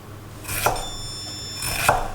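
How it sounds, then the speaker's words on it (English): A big kitchen knife cuts through an eggplant for stuffed papoutsakia, making two crisp, close chopping strokes about a second apart, with no talking. "And get the big knife out."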